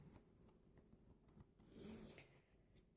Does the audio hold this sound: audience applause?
no